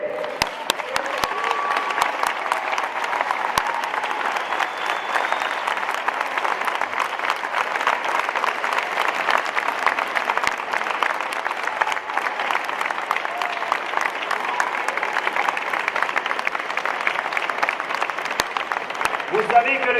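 Sustained applause from an audience fills a gymnasium during its inauguration, a dense steady clapping that lasts the whole time without letting up.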